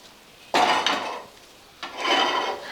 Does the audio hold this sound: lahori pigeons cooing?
no